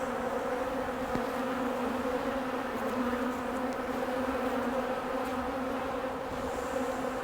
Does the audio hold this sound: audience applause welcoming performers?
no